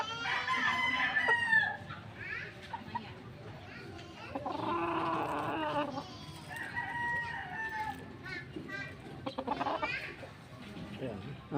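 A prize-winning rooster with full, freshly molted plumage crows repeatedly, loud and near, amid clucking fowl and children's voices, with someone talking over much of it.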